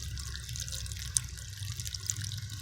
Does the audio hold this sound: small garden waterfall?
yes